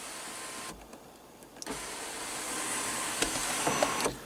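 A 2016 Ford Fusion 2.0L sunroof motor runs with a steady, moderate electric whir inside the cabin, pausing briefly near the start before resuming and continuing to the end, with a few faint clicks.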